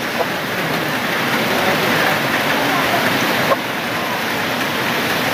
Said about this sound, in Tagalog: kahit kasabay namin yung ulan